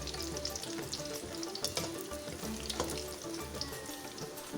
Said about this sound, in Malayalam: ചക്കപ്പഴം പൊരി ഇവിടെ എണ്ണയ്ക്കകത്ത് കിടന്ന് ഫ്രൈ ആയിക്കൊണ്ടിരിക്കുകയാണ്.